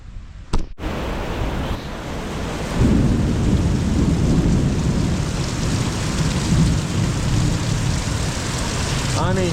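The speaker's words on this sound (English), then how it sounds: "Storms are rolling in, guys." Steady heavy rain pours down during a thunderstorm, with low rumbling thunder swelling in after a few seconds and a brief sharp crack near the start, a loud continuous wash throughout.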